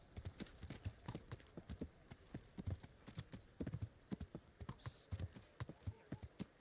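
Horse hooves clip-clop in steady rhythm on hard ground in a medieval Bohemia game, close and clear, with a brief whinny partway through and light speech faintly underneath.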